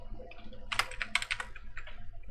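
Rapid clicking keystrokes on a computer keyboard while code for an Angular signup form is typed, a close, brisk burst of irregular taps with no voices.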